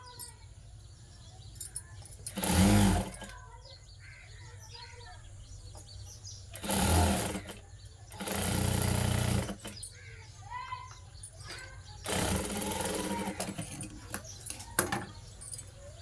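A sewing machine stitches the skirt of a Punjabi dress in four short bursts of whirring, heard close and moderately loud, with quiet gaps and faint background sounds between runs.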